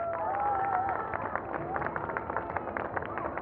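Crowd at a candlelight rally in Gwangju applauding and cheering, a dense wash of clapping with scattered shouts and voices in the mix.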